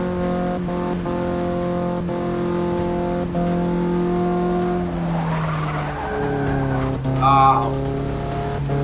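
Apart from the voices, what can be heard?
race cars engines revving in video game Forza Motorsport 6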